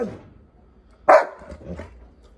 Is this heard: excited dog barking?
yes